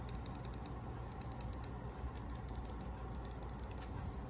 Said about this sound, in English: This is what the clicks sound like.